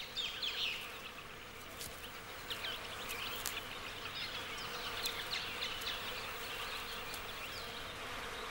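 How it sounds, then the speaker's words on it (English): Insects, bees, flies and wasp-like buzzers, drone steadily around a harpy eagle chick in a Maya forest nest, with several close passes that swell and fade over a faint, constant hum and no talking. "The young bird is plagued by insects."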